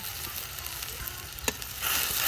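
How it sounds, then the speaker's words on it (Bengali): A spice paste of cumin paste, ginger paste, chili powder, turmeric, coriander powder and salt sautés in hot oil with a continuous dense sizzle, a brief utensil tap, and a louder sizzle toward the end. "মশলাটারে ভালো করে কষে নই"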